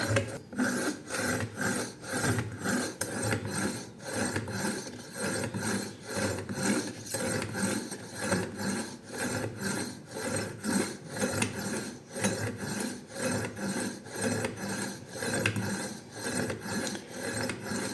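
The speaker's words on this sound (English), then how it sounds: "now on the finest grit, just pull it gently back and forth, again 15 to 20 times" Knife blade drawn steadily back and forth through the finest grit slot of an IKEA SKÄRANDE sharpener, a close, continuous rasping scrape repeating in an even rhythm of many strokes with no voices.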